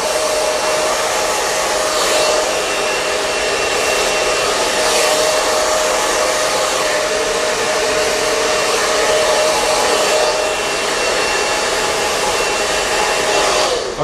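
A hair dryer blows steadily on hair styled with hard-hold spray into a semi mohawk, a loud continuous airy roar with a faint motor whine, unbroken and alone for the whole stretch.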